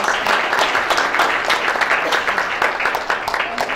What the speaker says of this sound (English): we'll give Jerome another round of applause